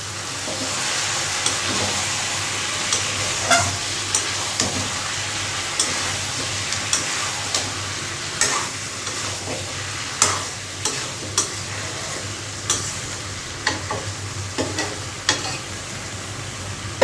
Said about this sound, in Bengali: ভাত আর মাংসের ঝোল একসাথেই বসিয়ে দিলাম